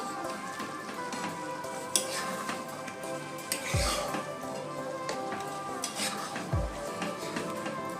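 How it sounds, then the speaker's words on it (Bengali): A spoon scrapes and clinks around a pot of dalia porridge cooking with ghee, a steady sizzle underneath and two sharper knocks against the pot. "ঘি দিয়ে দিলাম তো এটাকে আমি এবার একটু মিশিয়ে নেব"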